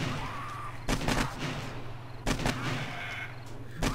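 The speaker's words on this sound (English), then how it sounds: "I can just stand here, shoot these guys." Gunfire from shooting zombies during a day-49 horde in the video game 7 Days to Die, played on PlayStation 4: two loud clustered volleys of rapid shots over a steady low background drone.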